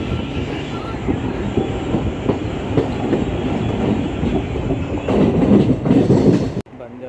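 Mumbai local train running, a loud steady rumble of wheels on rails with rhythmic clatter throughout, swelling louder near the end before an abrupt cut.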